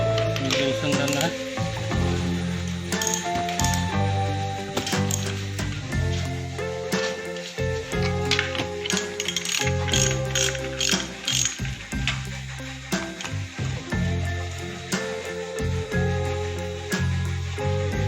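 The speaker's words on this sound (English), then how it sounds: "Loosen the nut." A wrench ratchets a nut loose during strut removal on a Maruti car, producing dense, continuous clicking and metallic mechanical rattling up close.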